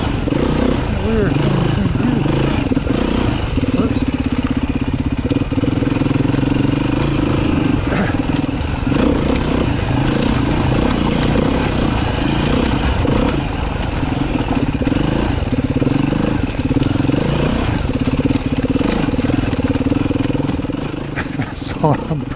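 A four-stroke Foxboro motorcycle engine droning through a ride at low throttle, lugging and snatching for lack of revs, a loud continuous rumble that holds steady from start to finish with wind noise layered over it.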